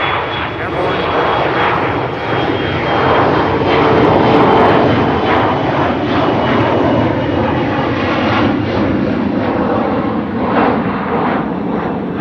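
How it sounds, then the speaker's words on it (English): A passenger jet departing Amsterdam Schiphol for Bologna, a loud steady engine roar that swells slightly and holds, with voices talking over it. "the departure to Bologna already airborne"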